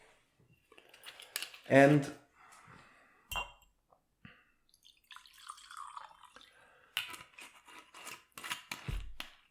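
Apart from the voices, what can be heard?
pouring a glass of whiskey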